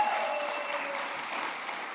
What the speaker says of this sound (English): I want to give Ashley Adams a special round of applause as well for putting this all together.